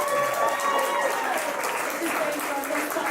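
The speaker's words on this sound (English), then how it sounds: "can we have a big applause for James Ski as well?" An audience at a SaaS sales panel event applauds a guest, sustained dense clapping under murmuring voices, fairly loud and steady.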